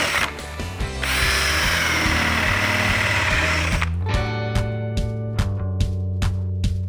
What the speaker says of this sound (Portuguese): E com uma broca de 22 mm, vamos fazer a furação aqui sem ultrapassar o outro lado.